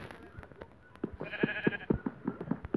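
Sheep bleats from the Minecraft video game, a series of short repeated bleats in quick succession, fairly close and moderately loud over faint background game sounds.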